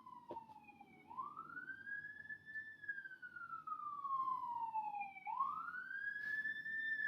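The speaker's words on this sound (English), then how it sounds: "Now there is actually sirens." Wailing emergency vehicle siren sweeping up and down in long rising and falling cycles, moderately distant outside, heard through a room with low background rumble.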